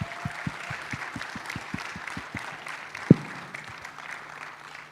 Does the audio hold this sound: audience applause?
yes